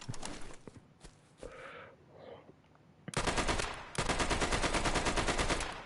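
Video game Easy Red 2 with an MP40 submachine gun: after a few scattered shots and some shuffling, the gun fires two long, loud, rapid bursts of rattling automatic fire, close and dominant.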